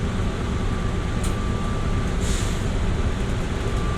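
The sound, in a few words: train departing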